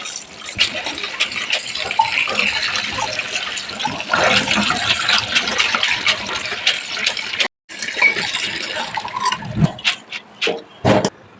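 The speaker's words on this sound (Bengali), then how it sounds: "এখন এগুলো ধুয়ে নিচ্ছি সুন্দরভাবে ধুয়ে নিতে হবে" Soaked red lentils being rinsed in water, with a steady splashing, gushing wash that runs for about seven seconds, pauses briefly, then resumes in shorter swishes and drips.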